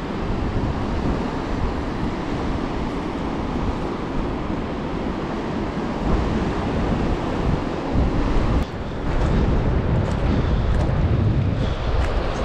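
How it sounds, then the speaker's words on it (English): Continuous heavy wind rumbles and rushes against the microphone, loud and unbroken, with a brief dip before gusting back. "Quite windy."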